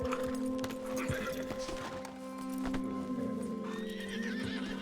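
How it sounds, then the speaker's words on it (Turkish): A horse in the Red Dead Redemption 2 video game lets out a loud, wavering whinny over steady clip-clopping hooves and a low game ambience. "Bizim atı bağlayalım şuraya da"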